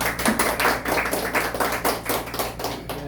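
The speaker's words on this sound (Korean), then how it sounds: "박수 한번 해주시죠." A crowd at an academy opening ceremony applauding: a run of brisk, uneven clapping that keeps a steady level for a few seconds, with no one speaking.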